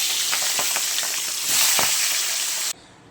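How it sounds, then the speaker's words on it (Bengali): A katla fish head fries in hot oil, producing a loud, dense sizzle with spattering pops. It swells briefly and then cuts off abruptly near the end. "তেল গরম হয়ে গেছে, মাথাটা ভেজে নিচ্ছি"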